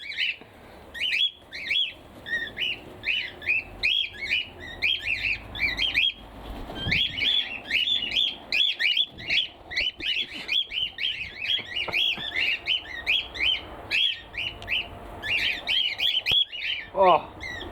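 Pet cockatiels chirp and squawk almost without pause, a dense, close flock of shrill calls and short harsh screeches, loud and busy throughout with only brief gaps.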